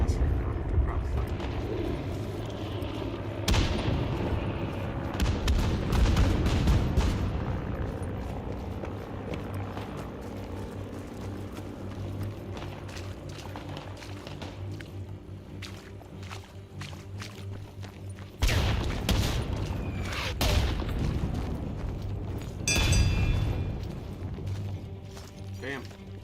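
Artillery shells land in the video game Isonzo, with several heavy booming impacts and crashes spread across the clip, separated by quieter stretches, while someone talks over the action.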